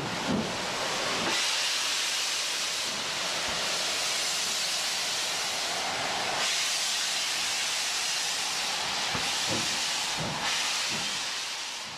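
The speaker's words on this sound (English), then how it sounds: "one of the new Stanier mixed traffic engines that were eventually to form the biggest single class of British steam locomotives, the legendary Black Five" A Stanier Black Five steam locomotive of the British mixed-traffic class releases a steady, loud hiss of steam that carries on without pause, swelling slightly in bursts, with no voices.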